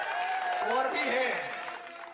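An audience applauds at a Hindi comic poetry recital, the clapping a steady, fairly loud wash that fades slightly toward the end, with a voice and tonal sound running over it.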